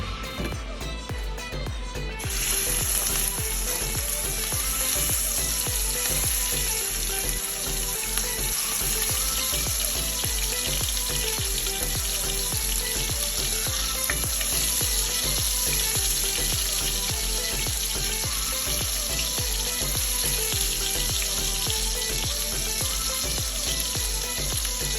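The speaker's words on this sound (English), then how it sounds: "I already threw some hot oil inside the pan" Continuous loud sizzling of beef burger patties frying in hot oil in a pan, a steady crackling hiss that starts after a brief quieter moment and runs on unbroken.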